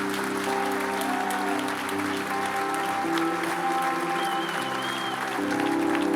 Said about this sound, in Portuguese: Dê o seu melhor aplauso a Jesus,